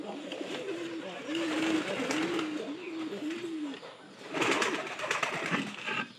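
A pair of pet pigeons coos close by at their loft, a rolling run of repeated low coos with a burst of rustling and scuffling near the end.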